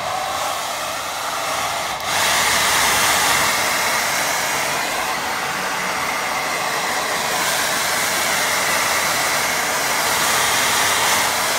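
Hair dryer blowing steadily over a watercolour painting, a loud continuous whooshing drone that briefly dips then carries on unbroken, with no talking.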